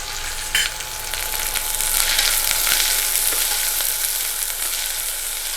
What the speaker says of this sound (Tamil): ஆனியன் நல்லா பொன்னிறமாக வதங்கணும்.